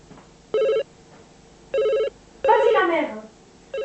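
A telephone rings in a French film, with three short, loud electronic bell bursts at regular intervals followed by a final ring starting just as the sound cuts off.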